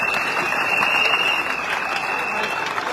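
Dense, steady applause from a large audience at a Gabonese civil society political gathering, loud and sustained throughout with crowd noise mixed in.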